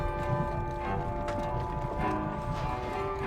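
Steady clip-clop of a sickly horse's hooves plodding along over a dense bed of game music and ambience, even and unhurried.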